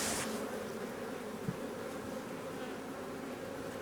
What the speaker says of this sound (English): this is the first hive that's really gotten kind of active, gotten kind of mad in my face